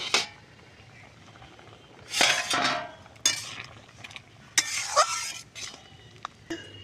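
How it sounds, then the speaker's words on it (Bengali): A metal plate lifted off a cooking pan and okra tipped in for a mustard-based curry cooked without oil, giving a few close clanks and rustling scrapes separated by short pauses, with no talking. "দেখো থালাটা আমি এবার খুলে ভেন্ডিগুলো দিয়ে দেবো।"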